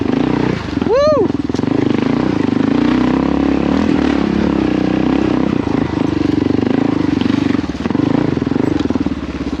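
Kawasaki KLR650 motorcycle climbing a hill, its engine roaring loud and close throughout, with a quick rising rev burst near the start, then a sustained labored drone with clattering.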